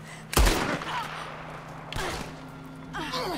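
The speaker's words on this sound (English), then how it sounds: "Shall we see what happens if I shoot Micah?" Gunshots in the Red Dead Redemption 2 video game: a sharp close report followed by a second shot about a second and a half later, then a fainter third burst over a steady low hum.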